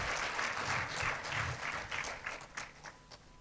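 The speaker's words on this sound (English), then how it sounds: "A round of applause for her." An audience at a university freshers orientation day breaks into applause, a dense wash of many hands clapping, moderately distant and fading toward the end.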